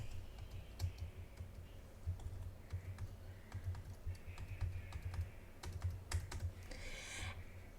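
Rapid keystrokes on a computer keyboard while credit card details are entered on a ticket purchase page, a steady run of close clicks over a low background hum.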